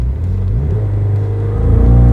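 A Jeep Trackhawk's supercharged engine at full throttle on launch control before a drag race, a loud, deep, sustained roar that swells and rises toward the end.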